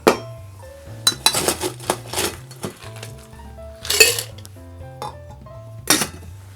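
Ice cubes tumble into a large metal cocktail shaker tin for a daiquiri in a series of sharp clinks and rattles, some scattered, some in quick clusters.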